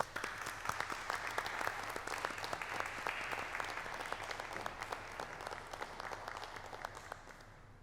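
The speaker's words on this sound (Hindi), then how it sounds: "तो तालियों से स्वागत कीजिए मिस्टर टोनी चेन का।" An audience at a family foundation art auction event breaks into steady, sustained applause, many hands clapping densely and evenly for several seconds before gradually easing off slightly.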